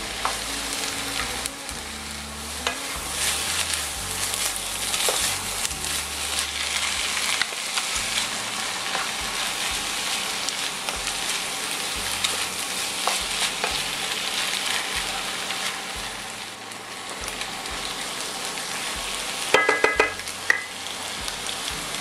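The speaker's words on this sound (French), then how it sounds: "on va bien sécher le chou. Et si on arrive à le faire griller un petit peu" Shredded sauerkraut cabbage fries and is stirred in a pan to dry and lightly brown it, giving a steady, loud sizzle with scraping stir strokes and a few brief clinks near the end, with no talking.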